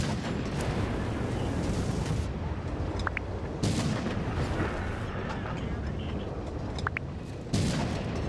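Artillery fires in a World of Tanks–style game battle on the Highway map, a few heavy booms standing out over a constant dense rumble of battle noise, with no talk.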